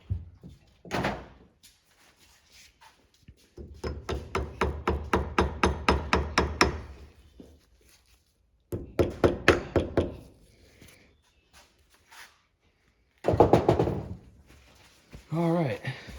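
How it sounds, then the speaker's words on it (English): Small hammer tapping a part into a 1986 ATC250R motorcycle fork during a rebuild: a steady run of about a dozen evenly spaced metallic taps, then a second short burst and a few louder knocks, close and clear with quiet gaps between. "You probably have to take a little hammer and tap on it just a little bit"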